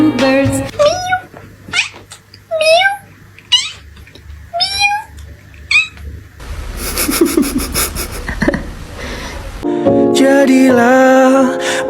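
A pet cat meows repeatedly and close, a run of short rising and falling cries, followed by a stretch of rubbing and breathing noise, then a louder drawn-out yowl at the end.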